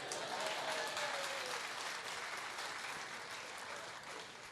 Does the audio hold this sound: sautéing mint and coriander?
no